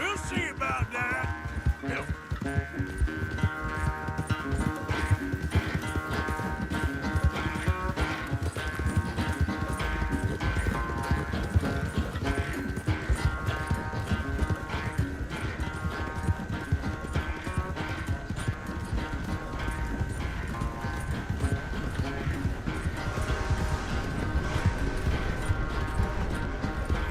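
Steady clip-clop of a galloping horse in Red Dead Redemption 2, hooves pounding in a fast continuous rhythm throughout, with a whinny and game music layered over the hoofbeats.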